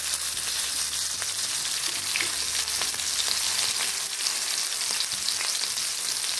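Mutton keema kebabs frying in oil in a pan over a low flame, giving a steady, close, loud sizzle with faint crackles and pops throughout.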